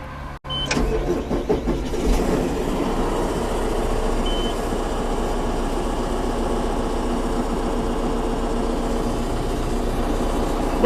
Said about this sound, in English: Let's go ahead and start up the tractor